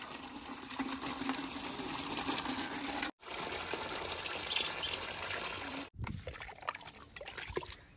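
Running water flows steadily from a tap or hose in a home garden with eggplant and aloe vera plants, a continuous broadband splash with two brief pauses and a rougher, more gurgling stretch near the end.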